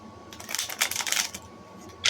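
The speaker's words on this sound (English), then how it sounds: "Let me shuffle real quick." Tarot cards being shuffled by hand, a short run of crisp riffling clatter bursts, close and moderately quiet, ending with one more sharp flick.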